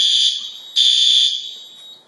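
An E3 fire alarm system sounds after a pull station is pulled: a loud, piercing electronic tone in two sustained bursts with a short dip between them, then it tails off.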